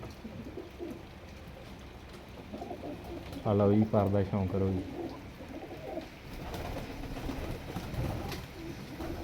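Teddy pigeons of a pure Khalsa line coo in a short, rhythmic run of deep throaty calls, fairly near, while someone talks and a low background murmur continues.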